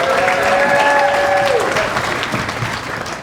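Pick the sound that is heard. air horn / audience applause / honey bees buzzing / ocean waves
audience applause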